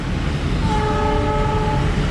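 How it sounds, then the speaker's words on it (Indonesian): A KRL commuter train sounds its horn, sustained steady tones, while passing a closed level crossing near Tanjung Barat, Jakarta, with loud rumbling wheel and rail noise throughout. "Ada kereta lewat, guys."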